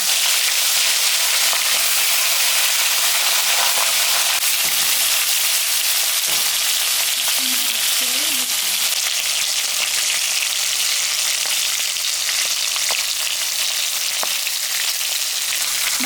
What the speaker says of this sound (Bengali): তেল গরম হয়ে গেছে আমি এখন মাছগুলো ভাজবো